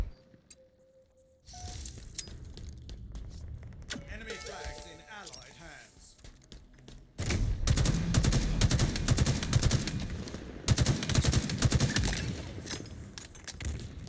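Rapid gunfire bursts from Halo Infinite ranked Capture the Flag, loud and dense in the second half, with clinking effects and game sounds under excited voices talking throughout.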